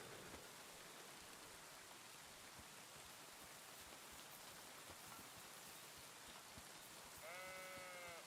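In the medieval world of the game Kingdom Come: Deliverance 2, steady rain hisses across the ground while a sheep gives a short wavering bleat near the end, faint against the downpour.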